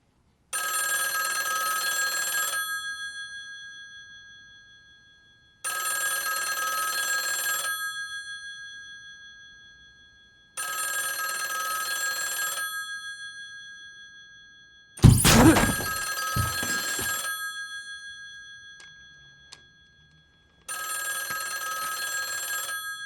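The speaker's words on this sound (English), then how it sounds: "the sound written into the script was the phone ringing" A telephone bell rings in a tense film scene, loud repeated ring bursts of about two and a half seconds with silent gaps, interrupted once by a sharp thunk.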